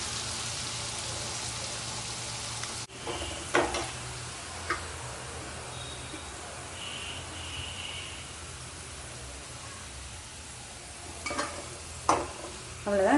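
Bitter gourd slices fry in a pan with a steady, low sizzle throughout, broken by a few soft clatters and scrapes as the pieces are stirred.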